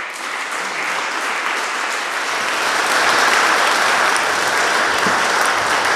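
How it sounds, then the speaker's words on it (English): A large audience at the Tokyo-London Financial Seminar 2024 claps for the seminar speakers and panellists. The applause is a thick, sustained roar of many hands that swells slightly louder partway through and stays strong to the end. "ask for a round of applause for all of our speakers, Fireside Chat and panellists as well"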